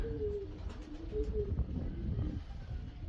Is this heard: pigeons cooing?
yes